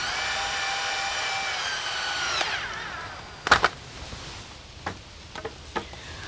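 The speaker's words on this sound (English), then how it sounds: "Use a drill to attach this." A power drill whines steadily as it drives Tapcon screws through a bottom plate into a concrete slab, then winds down into a few short sharp bursts of the motor, close and with no talk.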